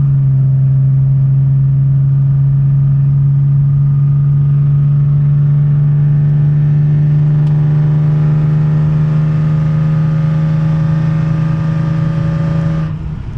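A Ford Mustang 3.7 V6 with aftermarket headers, H-pipe and cat delete drones loudly and steadily from close by, its engine pitch climbing slightly before cutting off at the end, in the rain.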